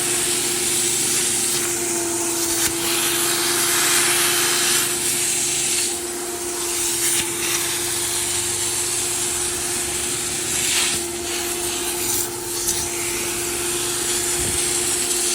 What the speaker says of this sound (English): We're gonna go over everything with the drill brush